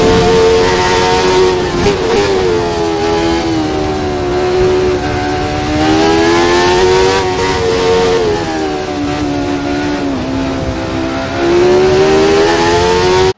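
Naturally aspirated 3.5-litre V8 Formula 1 car engine revving loud and close, its harmonic howl rising and falling in pitch over a sustained run.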